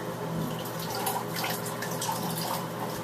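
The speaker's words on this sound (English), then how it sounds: "Then I get my hand rinsed off." Tap water running steadily over a hand being rinsed of soap after washing a newborn's hair, a continuous close splashing wash with faint drips and no talk.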